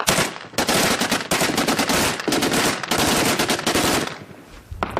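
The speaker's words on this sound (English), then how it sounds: "Then the base starts to return fire" Sustained automatic gunfire from a base returning fire in Homs, Syria, loud close bursts of rapid shots in dense overlapping strings separated by brief gaps, tapering off near the end.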